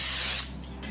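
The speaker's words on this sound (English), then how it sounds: "So now I'm gonna just spray this with my cooking spray" Cooking spray hisses from an aerosol can into an 8x8 baking pan in one steady, close burst lasting under half a second, then cuts off, leaving faint room noise behind.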